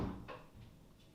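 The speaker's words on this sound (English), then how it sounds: "You close the door." A door closes with a single soft, close thud and brief rattle, followed by a quiet room.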